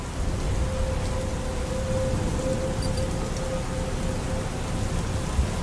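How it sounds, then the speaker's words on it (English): Steady rain ambience from the menu screen of an Unreal Engine 5 game, a continuous loud wash of falling rain with a faint sustained tone underneath and no voices. "Nice rain."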